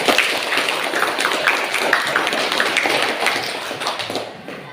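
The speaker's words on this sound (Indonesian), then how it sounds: "kita beri aplaus untuk kita semua" A classroom of students applauding together, a dense, steady patter of many hands clapping at once that holds for several seconds before thinning out slightly at the end.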